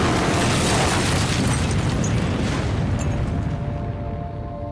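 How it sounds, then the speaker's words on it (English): A massive train explosion in a remote northern North Korean town, a loud sustained boom and roar that slowly fades over several seconds. "there was a massive train explosion in northern North Korea."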